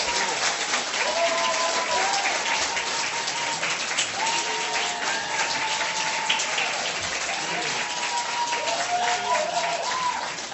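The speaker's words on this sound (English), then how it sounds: "please join now and clap your hands and we'll measure the sound" A debate audience claps steadily and loudly for the full stretch to cast its vote, with a sustained wash of applause and faint voices mixed in.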